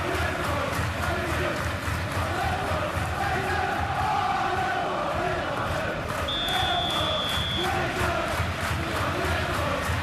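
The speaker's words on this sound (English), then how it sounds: "it's applause all around us here" Steady crowd applause and general stadium noise fill a simulated Premier League football match between Liverpool and Manchester City, a continuous loud wash with a short whistle-like tone partway through.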